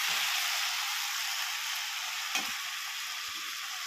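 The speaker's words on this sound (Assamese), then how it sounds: "এতিয়া অলপ সময় মই মাছটো ভাজি লোৱাৰ পিছতে, বেছি সময়টো ভাজিব নোৱাৰিম।" Pieces of fish sizzle in hot oil in a pan with a continuous close crackling hiss, with one short sharper pop or stir near the middle and no voices.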